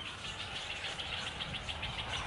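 Birds chirp faintly during an outdoor morning walk, with soft repeated calls over a constant hiss of ambient noise.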